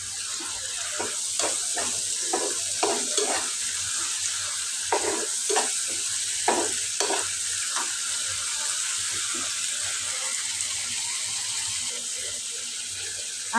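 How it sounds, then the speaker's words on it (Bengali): Spice paste for a tengra fish curry is stirred and fried in a pan, a continuous moderate sizzle with a cluster of wet, rhythmic stirring scrapes early on that taper into steady frying. "ঢাকনাটা সরিয়ে আমি আবার মশলাটা নেড়ে দেব আমি মশলাটা ভালোভাবে কষিয়ে নিলাম"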